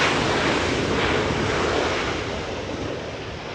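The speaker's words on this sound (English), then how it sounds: "Let's go to a Little E-175 flying from San Francisco." A SkyWest Embraer E-175 jet arriving from San Francisco at Los Angeles International Airport, a broad, steady engine roar that slowly fades as it passes.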